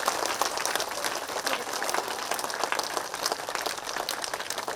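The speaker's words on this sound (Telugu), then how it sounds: "ఆ సంకల్పం చేసి నిర్మాణం చేసినటువంటి వాళ్ళందరికీ గట్టిగా గట్టిగా మనం చప్పట్లు ధన్యవాదాలు తెలియజేద్దాం" An audience at the 43rd Sadananda Yogi aradhana festival claps for the builders of the stage, a dense, even patter of many hands sustained throughout at moderate distance.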